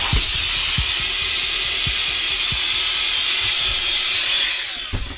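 Air rushes steadily into an inflatable pack raft with a loud, continuous close hiss that tapers off near the end, mixed with a few soft thumps.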